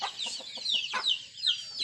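Native chickens fed organic feed cluck in a short run of rhythmic, close clucks, with higher squawking calls overlapping near the end.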